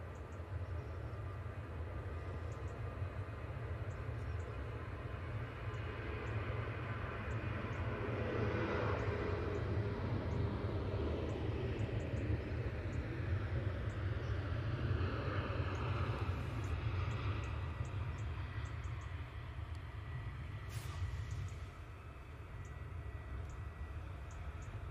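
A Boeing 757 jet rumbles at a distance, a low steady engine drone that holds throughout with slight swells, faint and continuous.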